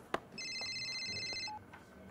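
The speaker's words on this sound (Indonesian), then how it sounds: "Sebentar, ada telepon masuk." A telephone ringing with an incoming call in an Indonesian comedy film: one electronic ring burst of bright, steady warbling tones lasting about a second, after a brief knock, with no talk over it.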